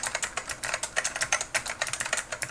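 Rapid typing on an Omnigate Evolution mechanical keyboard fitted with clicky Alps White switches, a dense run of sharp, close key clicks in an irregular quick rhythm with no voices.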